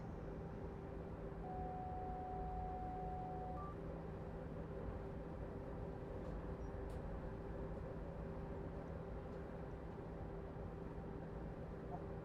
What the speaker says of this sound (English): A little bit of air brake in, and then dump the air brake off, and then leave the rheostatics doing the rest of the work.